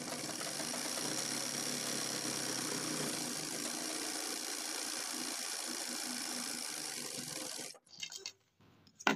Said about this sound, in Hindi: यहाँ से इस तरीके से सिलाई लगा लेंगे